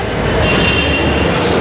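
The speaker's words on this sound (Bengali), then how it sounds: "ইলাচানাহালি মেট্রো স্টেশনে ঢুকছি এখন" Metro train pulling into Yelachanahalli station in Bangalore, a loud, steady, close rumble and roar from the rail carriages filling the whole moment, no voices.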